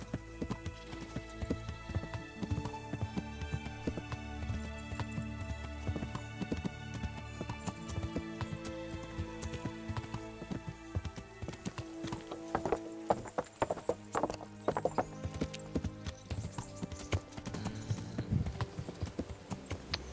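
Horse hooves trotting in the video game Kingdom Come Deliverance, a steady clip-clop rhythm of many close hoofbeats over a long stretch with occasional snorts and faint background game sound.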